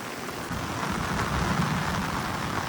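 Heavy rain pours near a hillside waterfall by Kondeshwar Temple in Badlapur, a steady broad roar with a low thunder rumble swelling beneath it.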